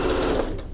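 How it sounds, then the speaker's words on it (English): A Janome 8900 sewing machine stitches a baby quilt, a steady close whirring hum running for under a second without talk. "We also have a question about what sewing machine you're using. I'm using a Janome 8900."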